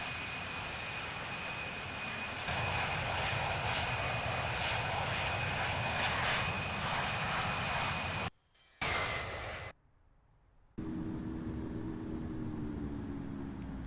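The Air Force 2 jet in the Infinite Flight simulator roars on takeoff as a loud, sustained broadband engine noise that swells partway through, then cuts out briefly in two gaps.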